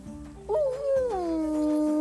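A dog whimpers in the medieval role-playing game Kingdom Come Deliverance 2, a close, drawn-out whine that rises and then slides down, heard alone over a quiet game backdrop.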